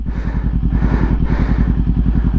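A motorcycle engine runs steadily and close, with a strong rhythmic low-end thump and a mechanical clatter, as a beginner rider rides and works through the gears.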